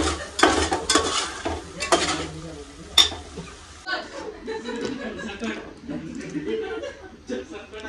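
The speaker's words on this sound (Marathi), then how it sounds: "आता ते चिकन आपण टाकतो" Pre-boiled chicken drops into a pan of fried masala and is stirred, bringing scrapes and clinks of a spoon against the pan over a soft sizzle, while people talk and laugh throughout.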